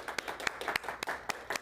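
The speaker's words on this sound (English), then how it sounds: "A round of applause for Cedric." A brief burst of scattered audience clapping at a live photography conference event, a few distinct claps sounding moderately close and fairly quiet.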